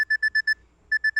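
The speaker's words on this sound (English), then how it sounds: "Why is my alarm going off?" Electronic alarm clock in a video game beeping in quick bursts: five loud tones, a short pause, then three more, with no voices.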